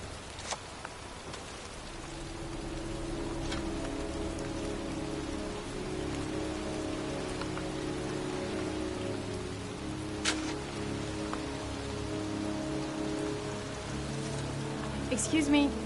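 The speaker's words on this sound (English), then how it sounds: "It's cold. It's raining." Heavy rain falls steadily outdoors on a cold day, a dense, even hiss with scattered louder drops, continuous throughout and fairly close.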